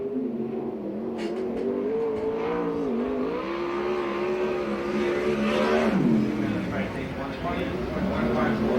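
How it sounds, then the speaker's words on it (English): A USAC/CRA sprint car races on the Perris fairgrounds track in Southern California, its engine droning loud and close with rising and falling pitch as it accelerates, while an announcer talks over it. "Green flag comes out for the 62X car"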